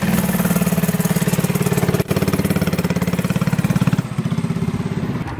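Several Harley motorcycle engines idling close by in Miami, a steady loud rumbling throb with rapid even pulses and a brief dip midway, no voices.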